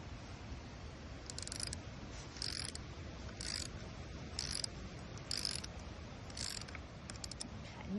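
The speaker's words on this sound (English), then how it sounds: "you can get your little mechanism, your little wrench, and just need to turn it because we're going to be tightening it up" A small wrench turns to tighten the nut on a pair of loppers, giving faint, quick metallic ratcheting clicks in short bursts over a quiet background hiss.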